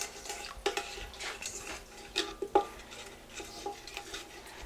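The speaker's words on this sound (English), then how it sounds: "And a teaspoon of sugar. And just stir it together a little bit." Yeast and sugar stirred together for homemade bread dough, giving quiet, irregular scraping and light clinks of a utensil against a container, close by and without talk.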